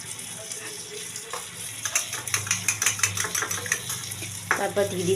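Bread slices frying in butter in a pan for a bread cheese pizza, with soft continuous sizzling under repeated scraping and stirring strokes that grow busier midway, close and moderately loud, with no talking.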